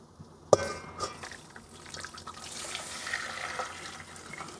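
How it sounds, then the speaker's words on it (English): Water poured from a pot into flaxseed for a homemade hair gel, a soft splashing trickle after a sharp knock, continuing faintly and evenly for a few seconds. "we're going to pour this water again into our flaxseed"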